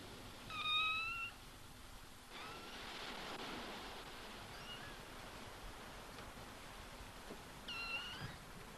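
A kitten shut in a boat cabin mews twice, a short thin cry near the start and another near the end, over a steady wash of background noise.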